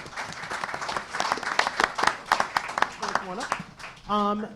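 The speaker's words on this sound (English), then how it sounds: "Round of applause." At a press session, an audience gives a short round of applause for the mayor, a burst of scattered claps that fades as a voice begins speaking near the end.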